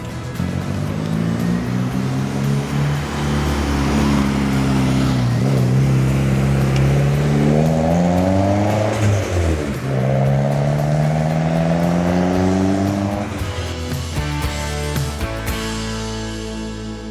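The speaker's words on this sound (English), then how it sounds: "Glanza V means this engine has a turbo, which you might have heard already." A Toyota Starlet Glanza V with its turbocharged 1.5-litre 5E-FTE engine, tuned past 200 horsepower, revs hard and loud, its pitch climbing, dipping and climbing again in a sustained, close-up drone with no voices.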